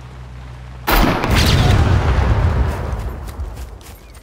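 A grenade launcher round explodes in the survival video game Scum, a sudden loud boom that rolls into a long, broad rumble and slowly fades over several seconds.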